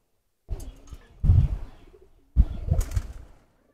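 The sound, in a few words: rocket breed pigeon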